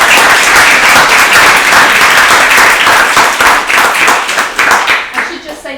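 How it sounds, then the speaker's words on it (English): A breakfast briefing audience applauds loudly and close by, with dense, sustained clapping that thins and tapers off toward the end. "applause for Emma"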